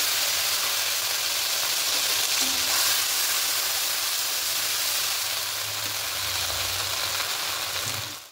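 Green chili, poppy seeds and fennel sizzle in hot oil with whole cardamom, cloves and cinnamon, a dense, steady frying hiss that runs close and loud for the whole stretch, with no talk.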